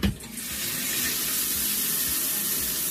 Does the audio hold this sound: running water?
yes